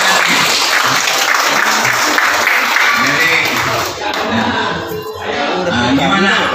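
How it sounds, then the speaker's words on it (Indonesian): Applause from a seminar audience, a loud, dense wash of clapping that swells and thins, with voices talking over it in the second half. "Tepuk tangan buat teman-teman"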